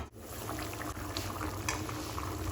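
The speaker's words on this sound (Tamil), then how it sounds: "குழம்பு நல்லா கொதிக்குது." Continuous bubbling and hissing of egg curry boiling in a pot, dense and steady, with small pops scattered throughout.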